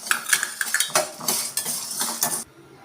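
Roasted gram and peanuts being stirred in a pan, with repeated metallic spoon scrapes and clinks against the cookware, close and fairly loud, stopping abruptly near the end.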